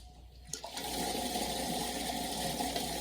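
Water gushes steadily through an open toilet fill valve into a cup held over it, a loud continuous rushing spray that starts abruptly and holds for several seconds, close up.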